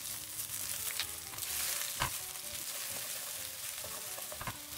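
Luffa stir-fried in oil with carrot, a continuous bright sizzle with scattered crackles and a couple of sharp spatula scrapes against the wok, close and steady with no voices.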